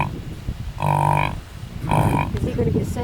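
A bison calf calls to its mother on a buffalo preserve in Fremont, Indiana, giving two loud, drawn-out lowing grunts about a second apart, close by, with people talking quietly in between.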